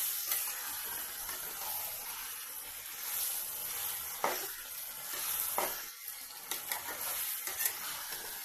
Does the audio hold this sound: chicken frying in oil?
yes